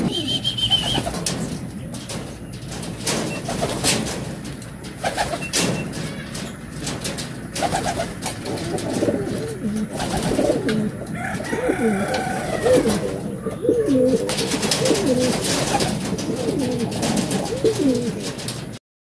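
Racing pigeons at a derby race loft coo steadily in a close, busy chorus, with scattered wing flaps and other birds calling around them.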